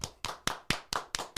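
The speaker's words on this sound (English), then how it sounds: "everybody clap your hands" An audience claps in unison at a live comedy show, seven sharp, evenly spaced claps in a quick steady rhythm, close and fairly loud, with no talking.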